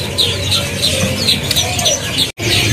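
Caged songbirds at a bird market chirp in a quick repeating pattern of bright tweets about twice a second, close and loud over low market bustle, with a short dropout near the end.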